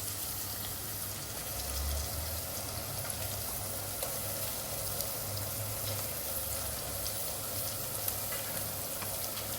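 Ginger garlic paste sautéing in a pan for vegetable pulao gives a steady, close sizzle and fry with faint stirring, continuous and even throughout with no voices.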